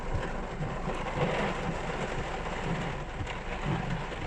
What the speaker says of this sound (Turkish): O kadar çok yağmur yağıyordu ki arabalar dörtlü sinyalleri yakarak yol kenarına durmaya başladı.